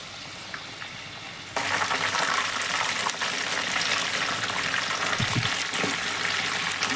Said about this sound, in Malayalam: നമ്മുടെ ചിക്കൻ എല്ലാം വറുത്ത് കഴിഞ്ഞിരിക്കുകയാണ്